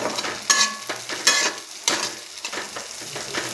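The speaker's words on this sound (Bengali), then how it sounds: "কিশমিশ একসাথে দিয়ে ফ্রাই করে নেব। ওকে, হালকা করে ফ্রাই করে নেব জিনিসটাকে।" Raisins and cashews lightly frying in a pan, with a soft sizzle punctuated by a few sharp stirring scrapes and clinks close by, and no talking.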